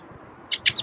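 A tiny wren calls in a few quick, high bright chirps that come close together near the end, loud and near over a quiet outdoor background.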